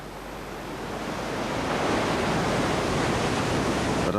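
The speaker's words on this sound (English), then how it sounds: "a violent tidal wave made escape difficult" Sea waves surging at Pompeii as a violent tidal wave: a dense, steady roar of broadband surf that swells over the first second and a half, then holds loud and continuous with no voices.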